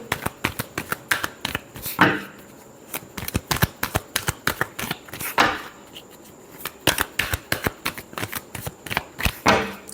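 Tarot cards shuffled in repeated quick riffling bursts with sharp snaps and flutters, close and fairly loud, with brief pauses between rounds and no talk.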